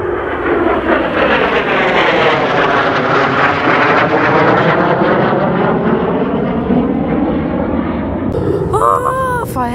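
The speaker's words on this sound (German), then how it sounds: "Düsenjet. Mann, ich will den sehen!" A jet aircraft passes overhead in the Harz region, a loud continuous roar that sweeps through with falling pitch and fills the whole stretch before fading as a voice cuts in near the end.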